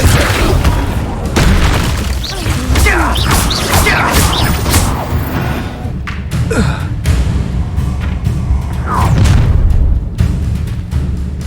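Spell-casting combat from a Hogwarts video game, with the Incendio fire spell erupting amid a dense, loud mix of booms, crashes and impacts that persist without a break.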